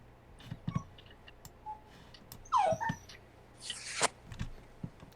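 A puppy whines and whimpers in short, thin high cries between scattered clicks and light tapping, fairly close and quiet.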